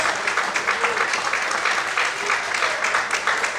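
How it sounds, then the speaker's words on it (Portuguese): A church congregation applauds strongly in praise, a continuous even wash of many hands clapping at once, filling the room without pause. "Será que você pode aplaudir e exaltar o Senhor bem forte?"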